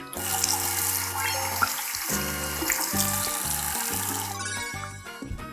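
Tap water runs steadily into a sink as a face is rinsed after cleansing, a constant hiss with background music over it.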